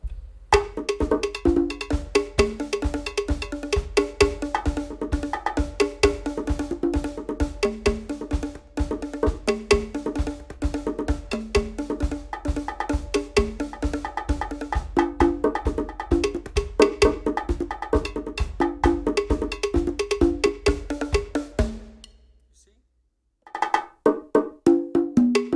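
Percussion samples and loops from a KORG MPS-10 drum pad, played as a dense, steady rhythmic pattern of sharp hits with cowbell-like tones, continuous for about twenty seconds before a brief gap and a short resumption.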